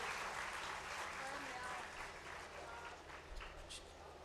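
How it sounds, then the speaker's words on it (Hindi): An audience at a Quran quiz program in Okara district applauds the contestants, a continuous, faint, hissing wash of clapping with a few louder spots near the end. "हौसला अफजाई के लिए भरपूर तालियां।"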